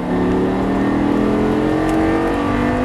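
A Lamborghini Gallardo LP 560 pulls out of a corner on track, its engine note climbing steadily and loudly in a continuous, close, rising rev with no voices over it.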